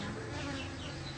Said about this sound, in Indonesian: untuk memindahkan lebah ini kita perlu suasana yang gelap karena lebah terangsang oleh cahaya